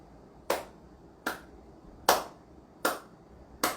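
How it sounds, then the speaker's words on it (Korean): A single person claps five times in about five seconds, crisp, close hand claps evenly spaced with brief silences between them. "5초 안에 손뼉 5번 치라고 하면 제가 어떻게 치겠어요?"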